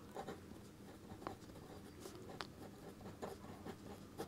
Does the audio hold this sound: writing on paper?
yes